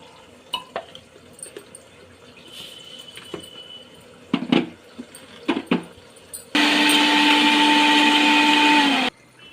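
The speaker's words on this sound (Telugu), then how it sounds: "ఎల్లిపాయలు మిక్సీలో పోసుకుందాం." A mixer grinder grinds garlic for tamarind chutney, kicking in loudly after some clinks and taps and running steadily for a few seconds before stopping abruptly.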